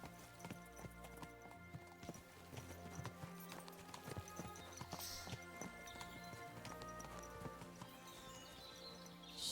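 Horses in the video game Kingdom Come Deliverance 2, with a steady rhythmic clip-clop of hooves under game music and ambience throughout.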